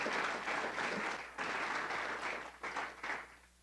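A church congregation applauds during a sermon with dense, sustained clapping that fills the room, then thins and breaks into a few uneven bursts near the end.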